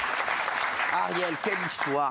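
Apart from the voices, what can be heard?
audience applause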